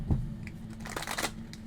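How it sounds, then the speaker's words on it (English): Tarot cards shuffled roughly, a short burst of soft papery riffling and flicks over a low steady hum, with no voices. "Wow, that was a terrible shuffle"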